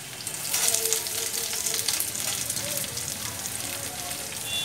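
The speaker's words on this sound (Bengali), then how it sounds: "পেঁয়াজগুলো ছেড়ে দিলাম। এবার পেঁয়াজগুলো একটু ভাজা ভাজা হবে" Onions fry in hot oil with a steady, moderately loud sizzle and crackle that stays continuous and even throughout.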